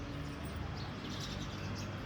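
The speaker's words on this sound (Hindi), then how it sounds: "और ये मेरे गौरैया," House sparrows chirp and twitter faintly over steady background noise, a busy flock somewhere nearby.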